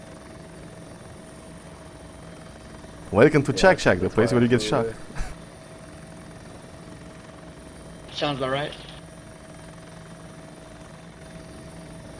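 A military helicopter in Arma 2 drones steadily throughout at close range, a continuous engine and rotor hum under two bursts of radio-style talk.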